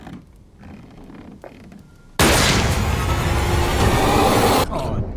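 A gunshot in the horror film Ready or Not, a sudden loud blast that gives way to a sustained roaring, crackling burst lasting over two seconds after a quieter, murmuring stretch.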